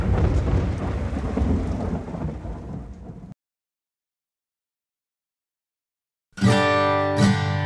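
Thunderstorm with heavy rain at night outside a backcountry cabin: a dense roar of rain fades and cuts to silence, then a loud close thunderclap bursts in with a second crack near the end.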